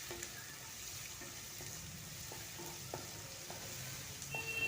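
Onions with curry leaves frying in oil for a tomato curry, a steady soft sizzle throughout with regular light scrapes of a spoon stirring in the pan, close by and fairly quiet, with no talking.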